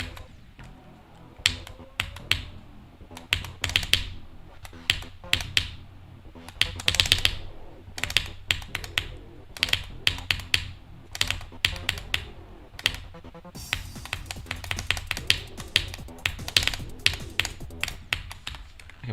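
Keyboard keys clack rapidly and unevenly during a game, sharp close taps coming in bursts and flurries with short pauses between them, and no voices over them.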